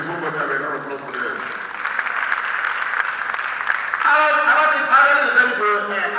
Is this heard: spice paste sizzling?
no